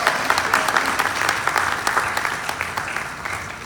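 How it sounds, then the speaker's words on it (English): A convention crowd applauds at a fan event's closing ceremony, a thick, lively patter of many hands clapping at close range that stays strong throughout and tapers slightly toward the end. "So give them a big round of applause"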